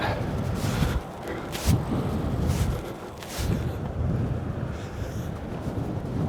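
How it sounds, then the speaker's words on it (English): Wind buffeting a DJI Mic Mini clipped to a cycling helmet under a third-party wind muff on a breezy day, a loud, continuous rumble that swells and dips in gusts. "this is a breezy day"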